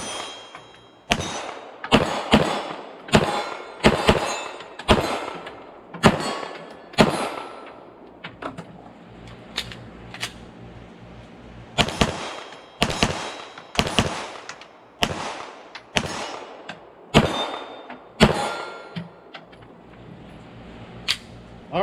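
A Canik TTI Combat 9mm pistol fires at an outdoor range from about 15 yards, a long string of loud, sharp gunshots in uneven bursts with brief pauses between groups, close and dominant.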